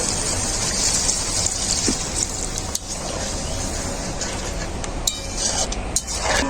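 Water being poured into a cooking pot of potato curry with fenugreek and salt, a steady splashing gush that runs continuously with a few clinks along the way.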